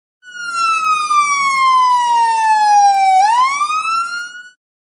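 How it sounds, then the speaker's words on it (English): A single wailing siren sweeps down in pitch and then back up, loud and clear with nothing else around it. "Ambulance."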